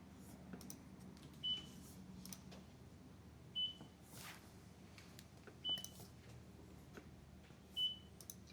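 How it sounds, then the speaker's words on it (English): Four short, thin electronic beeps sound at an even two-second interval in a city commission meeting room, faint against a low murmur of room noise and distant voices. "Somebody's beeping."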